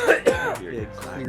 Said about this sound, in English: The coughing. It's beautiful.